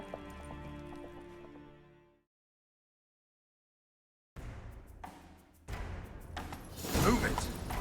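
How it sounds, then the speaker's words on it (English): Horses galloping in The Witcher 3, hoofbeats pounding after a burst of game music and a brief silence, building louder and busier toward the end with scattered thuds and clatter. "Grab a horse, we'll chase him down."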